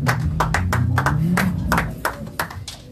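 Church congregation clapping in acclaim during a service, a run of brisk, fairly even claps from many hands, loud and close, tapering into a few scattered claps at the end.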